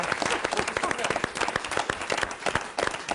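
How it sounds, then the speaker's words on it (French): Audience members applaud Marie, who is leading a quiz, with quick irregular claps at close range and a moderate level, while voices talk over the clapping. "Donc applaudissements pour Marie."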